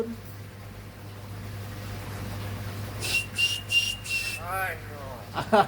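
A pet myna bird whistles a few clear, bright notes in quick succession, close by over a low steady hum, followed by short chattering calls.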